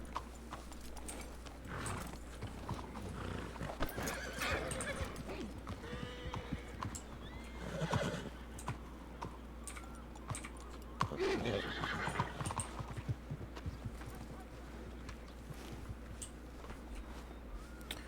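Horses in the open-world western game Red Dead Redemption 2 neigh and whinny several times over steady clip-clop of hooves, set against a low constant hum of game ambience, with no talking.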